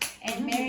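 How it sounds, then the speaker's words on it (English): Children clap in a short round, a brief burst of close, sharp hand claps that blends into a spread of clapping with a voice faintly underneath. "Big clap round."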